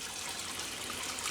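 Water pours steadily from a valve outlet into an aquaponics grow bed on a homestead fish setup, a close, even, continuous trickling rush with no talk.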